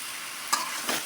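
Cauliflower frying in a spice paste in a fish curry pan, with a steady broadband sizzle and two brief stirring scrapes, the second fainter.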